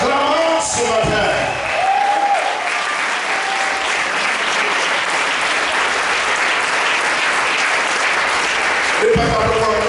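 A church congregation at Sunday worship claps and cheers in sustained loud applause, a dense roar of hands and voices, with a voice speaking over it at the start and end.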